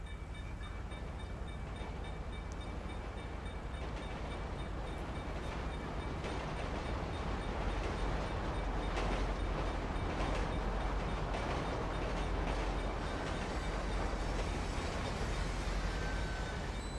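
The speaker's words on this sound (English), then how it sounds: "Now the bloody train has to come." A train rumbles past in the video game GTA 5, a steady continuous roar of rolling rail cars that holds at an even level for the whole stretch, with no voices.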